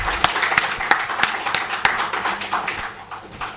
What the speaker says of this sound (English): Shall we please give the committee another big round of applause?